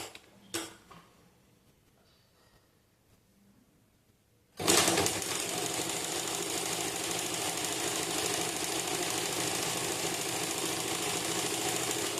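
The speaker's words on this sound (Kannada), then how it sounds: "ಇಲ್ಲಿಗೆ 1/4 ಇಂಚಿಗೆ ಒಂದು ಸ್ಟಿಚ್ ಹಾಕೋಬೇಕಾಗ್ತೈತಿ." A sewing machine stitches blouse fabric a quarter inch from the edge, starting abruptly after a quiet pause and then running in a steady, continuous mechanical whir close by.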